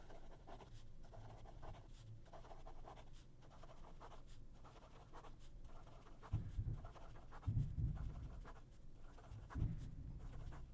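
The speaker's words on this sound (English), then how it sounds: "This is fast writing." A Hongdian D5 Qin Dynasty fountain pen scratches quickly across paper in close, continuous strokes, a soft rhythmic scratching with a few heavier brushing thumps toward the end and no talking.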